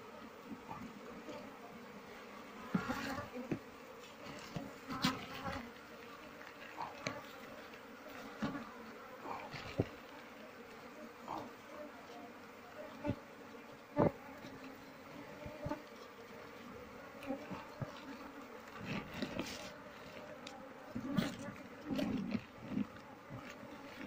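Asian honey bees (Apis cerana) buzz steadily while their hive and combs are moved, a dense continuous drone up close, with occasional louder passes of single bees near the ear and faint handling noises.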